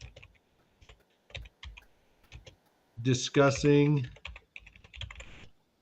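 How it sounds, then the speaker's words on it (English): Keys on a computer keyboard being typed in short irregular bursts of clicks, close by, with someone briefly talking over the middle of the typing. "I'm typing with a cigar, so sorry."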